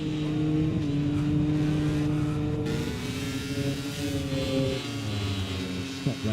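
An Aprilia MotoGP bike's engine screams onboard through turn 11 at the Sachsenring, a high revving howl that drops and climbs through gear changes under the corner, loud and close.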